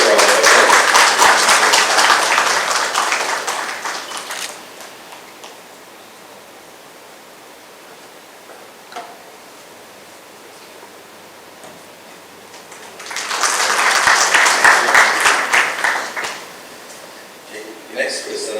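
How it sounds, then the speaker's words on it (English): Audience applause at a Ramayan Yagya night gathering in an ashram: a loud, sustained round of clapping for about four seconds, a quiet stretch, then a second long burst of clapping near the end. "So please give him a round of applause"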